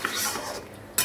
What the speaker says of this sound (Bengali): ভালো করে কষিয়ে নি